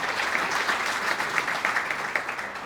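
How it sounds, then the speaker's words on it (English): An audience at an awards reception claps in sustained applause, a dense, even wash of many hands that holds steady without a break. "Really give yourselves a round of applause."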